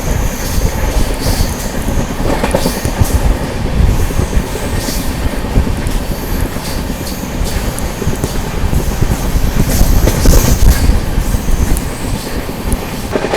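Continuous loud rumble of the 12615 MGR Chennai Central–New Delhi Grand Trunk Express heard from inside a 2AC coach, with steady rolling noise, rhythmic clickety-clack from the wheels and a brief squeal, with no voices.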